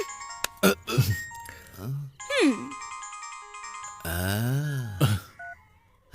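Phone ringtone ringing indoors, a melodic electronic tune sounding in short repeated phrases, mixed with talking voices and film background sound.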